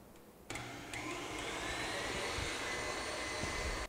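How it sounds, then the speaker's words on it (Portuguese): A stand mixer runs at maximum speed whipping meringue, a steady loud motor whir that starts abruptly after a quiet half second and holds constant to the end, with no voices. "E vou pôr para bater em velocidade alta, tá? A máxima da batedeira"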